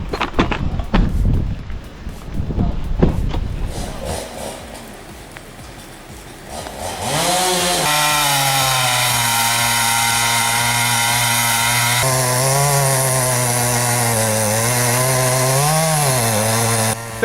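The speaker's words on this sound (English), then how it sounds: "This video featuring the Husqvarna 395 XP demonstrates the process of dropping a hazardous dead tree." A Husqvarna 395 XP chainsaw with a 36-inch bar fells a hazardous dead pine; rustling and cracking come first, then the saw roars up close and runs loud and steady, its pitch dipping briefly under load.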